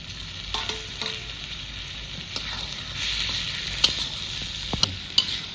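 Peas dropped into hot oil in a frying pan, hissing in a steady loud sizzle while a spoon stirs, giving a few sharp scrapes and clicks over the frying noise. No one speaks.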